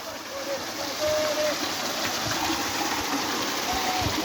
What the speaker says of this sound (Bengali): দেখেন এখানে পানিটা কীভাবে আসতেছে দেখেন